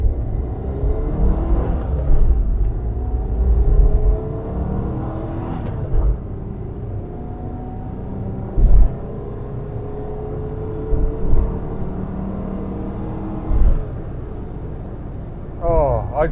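A Citroen GSA car is driven along the road, its engine rumbling low and steady close by, with occasional bumps and thuds from the ride and a person talking over it.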